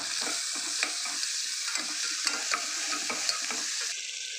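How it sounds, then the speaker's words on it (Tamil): Tomatoes with turmeric and salt being sautéed in a pan for mutton gravy: repeated scraping stir strokes over a soft, steady sizzle, close and without any talk. "தக்காளி நல்லா வதக்கிக்கோங்க."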